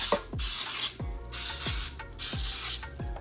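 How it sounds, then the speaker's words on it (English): Pan baking spray hisses onto a jumbo muffin baking tin in four short, evenly spaced bursts, each a close, bright aerosol spray separated by brief gaps with faint clicks. "I'm just gonna spray my baking tin here"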